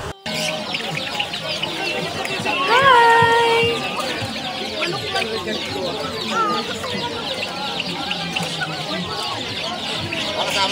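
Chicks for sale at a roadside vendor's stall give a few clear, high cheeps amid busy outdoor crowd noise, with a person briefly calling out a greeting.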